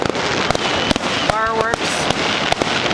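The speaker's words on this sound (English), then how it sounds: "Fireworks" Fireworks bursting over a beach beside a Hawaiian resort at night, a string of sharp cracks and bangs at irregular intervals against a steady crowd murmur, with voices talking nearby.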